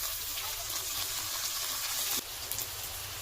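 Tomatoes frying in a kadai with onions and potatoes give a dense, loud, continuous hiss that drops off briefly partway through before carrying on.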